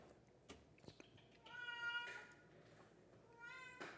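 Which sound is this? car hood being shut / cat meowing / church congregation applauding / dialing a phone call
cat meowing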